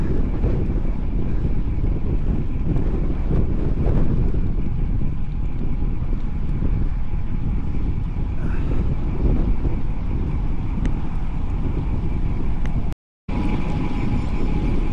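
Very strong, rainless wind rushes past during an outdoor bike ride, a loud, steady roar of gusts buffeting close to the microphone, with a brief dropout near the end.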